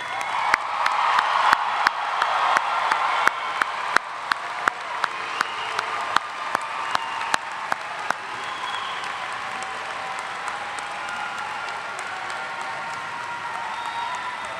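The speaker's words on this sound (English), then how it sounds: "Let us applaud all of our new graduates." An audience at a spring commencement ceremony at Augusta State applauds the new graduates. Loud clapping and cheering at the start settle into scattered, sharp individual claps that taper off into a low crowd murmur.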